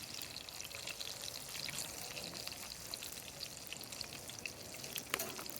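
Spam sizzles and crackles steadily in hot oil in a cast iron skillet, a soft, continuous frying hiss with occasional pops.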